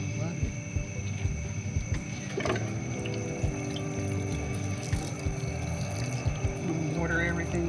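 Water splashes and trickles over plants in a raised bed garden, a soft, uneven pour running under someone talking.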